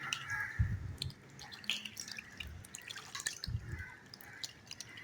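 Pieces of fish are washed in water and lifted into a strainer, giving soft drips, trickles and wet squishes in a few close, uneven bursts.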